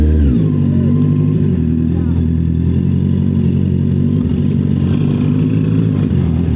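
Big bike motorcycle ridden on the road, its engine droning steadily and close with a low throbbing note, shifting revs near the end, while someone talks over the engine.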